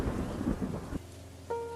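A night thunderstorm over a village brings a deep rolling thunder rumble with heavy rain that cuts off abruptly after about a second, leaving faint rain and a thin tonal ring.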